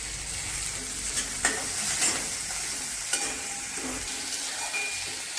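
Tomato frying in a pan for a Marathi karadai leafy-greens dish, with a steady sizzle and several sharp scrapes and clinks of stirring, close and continuous.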